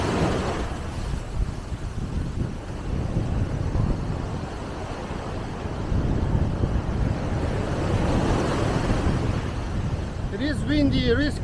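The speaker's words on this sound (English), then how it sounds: "It is windy, it is crazy," Strong wind buffets the microphone on a busy Koh Samui beach, a constant roaring rush with surf-like swells under it, and a voice briefly speaking at the very end.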